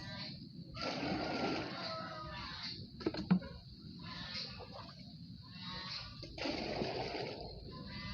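Well water running and splashing steadily into a container for washing, with a continuous gurgling rush that swells and eases over several seconds and a brief clatter in the middle, and no talking.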